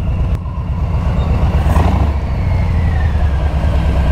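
A motorcycle engine rumbles steadily up close with a deep, continuous low drone, holding a constant throttle throughout.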